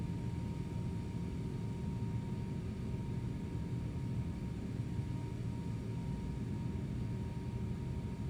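Airliner engine in steady flight in Microsoft Flight Simulator 2024, a Qantas jet climbing from Sydney toward Melbourne, giving a continuous low rumbling drone, faint and even, with no talk.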